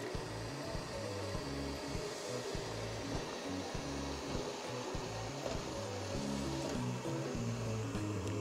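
An Ecovacs Deebot T8 robot vacuum cleaner runs with a steady, loud motor whir and suction hiss, continuous throughout with a faint rhythmic low-end pulsing and no talk.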